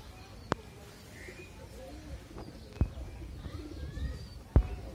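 Pigeons on a small farm call softly, with faint cooing and bird chirps over a low background hum, punctuated by a few sharp knocks or wing flaps.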